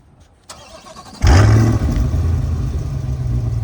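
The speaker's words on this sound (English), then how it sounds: "Car sounds absolutely insane, and that wasn't even a cold start." A click, then a 2020 Chevrolet Corvette engine, already warm, cranks and fires with a loud bark, revving up sharply before settling into a deep, rumbling idle.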